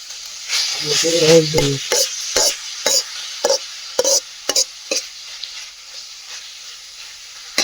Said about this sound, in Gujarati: લસણને થોડી તેલમાં તળી રહ્યું છે